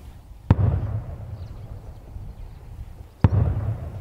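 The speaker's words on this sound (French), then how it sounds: "Au loin, l'écho des tirs d'artillerie de l'armée camerounaise." Two distant booms from Cameroonian army artillery fire in a Nigerian ghost village area, each a sharp onset trailing into a low rumbling echo, about three seconds apart over steady low background noise.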